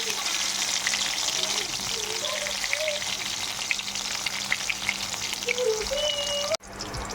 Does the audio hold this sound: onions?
yes